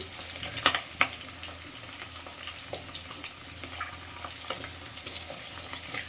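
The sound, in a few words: green chilies, garlic and onions frying in a pan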